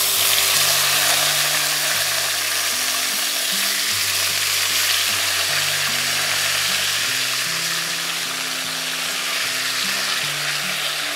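Pumpkin leaves dropped into hot oil for a Bengali pumpkin-greens and small shrimp dish, a loud continuous sizzle and hiss that slowly eases, close up, with no speech.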